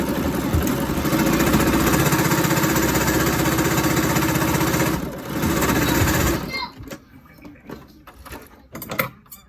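A sewing machine runs steadily for about six seconds while stitching large scrap fabric pieces together for a dress, then stops, leaving softer clicks and handling noises.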